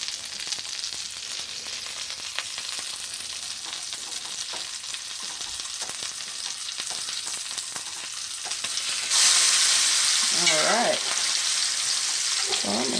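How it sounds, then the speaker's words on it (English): A New York strip steak sears on its fatty edge in a skillet, giving a steady, close sizzle that swells louder toward the end, where a brief voice comes in. "just going to turn it on its side and let the skillet do its job so I can render the fat that's on the side"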